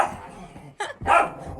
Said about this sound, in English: Finn, make him be quiet. That's my other dog